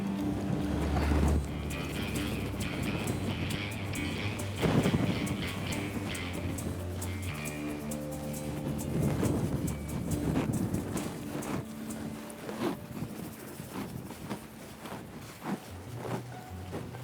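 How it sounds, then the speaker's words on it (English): Strong wind buffets a microphone outdoors on an Australian deer hunt, a rough, gusty rumble throughout with faint hints of voices and movement under it. "Let's go get someplace where we're out of this wind."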